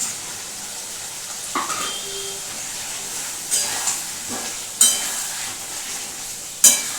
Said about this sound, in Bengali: এবার এখানে একটু মিশিয়ে দেবো